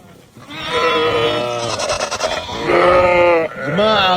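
Sheep bleat loudly and close by in long, wavering cries, several calls following one another with short pauses between.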